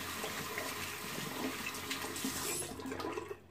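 Running tap water splashes over a hand while shaving soap lather from a mug of Williams shaving soap is rinsed off, a steady close rushing and spattering that continues throughout and tapers at the end.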